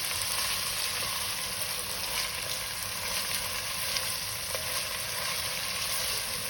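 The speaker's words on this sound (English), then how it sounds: "Now we have to fry this nicely." Chopped onion frying in hot oil for a Punjabi dhaba-style masala chicken, giving a steady, even sizzle that holds without a break, close and moderately loud with no voices.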